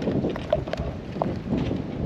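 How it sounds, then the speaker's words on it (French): Wind buffets a catamaran at sea, a rough, blustery rush that covers the whole stretch with a few small knocks from the boat. "Bon, il y a du vent aujourd'hui."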